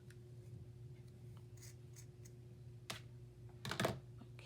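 Scissors snip through paper for a pocket design, faint close cuts with small rustles, ending in a louder crisp burst of cutting and paper handling over a low background hum.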